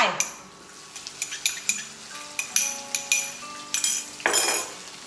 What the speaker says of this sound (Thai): ผัดให้หอม ด้วย ซอสขวดนี้นะคะ